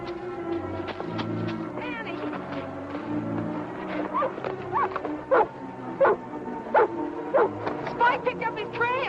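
A dog barks and yips repeatedly while tracking on a trail, the barks coming in sharp, irregular bursts over a rumbling, busy background of old film sound.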